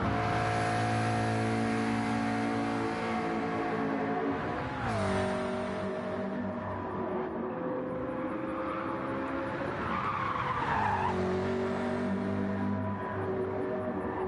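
Race car on the Dragon Trail reverse circuit in a racing game, a steady droning engine with shifting pitch and tire squeal as it skids through corners, loud and close throughout.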